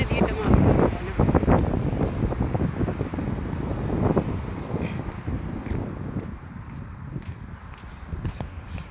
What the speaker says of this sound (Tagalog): Talagang mahangin sa labas.